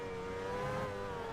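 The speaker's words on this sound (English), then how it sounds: "I would rather hear the engine" A Formula One race car engine in the F1 Challenge '99-'02 racing game at the Australia circuit holds a steady, high-pitched droning whine for a moment, with no talk.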